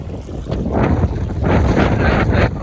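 A motor boat speeds across the sea off South Goa, giving a loud, continuous roar of engine and splashing water, heavily buffeted by wind on the microphone.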